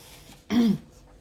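A single short throat-clearing cough from someone recovering from bronchitis, close and quiet, alone without any talk.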